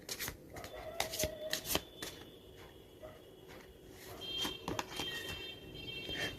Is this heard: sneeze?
no